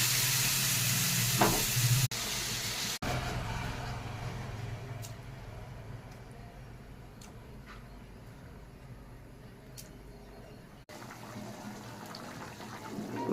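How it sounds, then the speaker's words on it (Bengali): Chilli, cumin and turmeric paste fries with potatoes in a pan for a hilsa fish curry, producing a continuous low sizzle and bubbling with occasional stirring, moderately loud and close. "মশলাটাকে কষিয়ে নিচ্ছি ভালো করে।"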